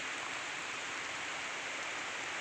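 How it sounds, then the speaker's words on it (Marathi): Heavy rain falls outdoors in a steady, uniform wash of hiss, soft and unbroken, with no voices or distinct drops standing out. "तर जरा पाऊस कमी होऊ दे, कबर सुरू करतो."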